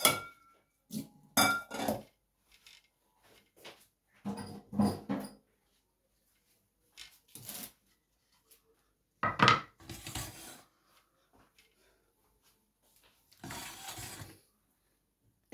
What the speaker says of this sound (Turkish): Birlikte şimdi doğrayalım.